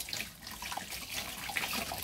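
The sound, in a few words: water being poured for bathing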